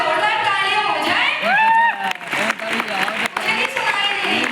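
An audience at a beauty product training session claps loudly and steadily, with voices and shouts rising over the applause throughout.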